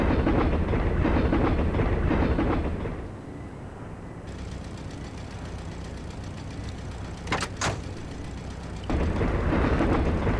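A train rumbles past in The Italian Job video game, a loud, continuous rolling clatter that dips in the middle and swells again near the end, with a couple of sharp bursts along the way.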